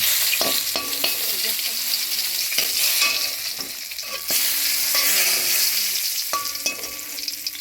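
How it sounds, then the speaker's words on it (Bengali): Cardamom, cumin seeds and bay leaves sizzle and crackle steadily in hot oil for a Bengali vegetarian dish, with repeated spoon stirs and scrapes against the pan close by. "এলাচ, ছোট এলাচ এবং জিরে ফোড়ন দিয়ে নিচ্ছি। নাড়িয়ে ঘাটিয়ে নেব, দুটো তেজপাতা দিয়ে নিচ্ছি।"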